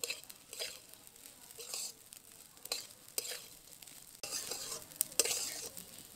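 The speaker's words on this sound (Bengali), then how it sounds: "আবারও খুব ভালো করে মিশিয়ে নাড়াচাড়া করে নেব।" Rice mixed with turmeric and roasted cumin powder being stirred and fried in a pan for hilsa fish pulao, quiet sizzling with repeated scraping strokes of the spoon against the pan, close but faint.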